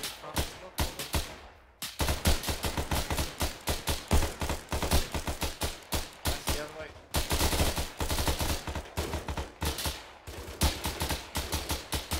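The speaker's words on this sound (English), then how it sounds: "Shots from the east." Heavy bursts of automatic and rifle fire in the video game ArmA 3, loud repeated volleys in rapid rhythm with brief pauses, close and continuous throughout.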